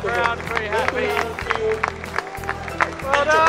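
A crowd at a stag-do match cheers and claps after a victory, a lively din of applause and shouting under close talk and exclamations.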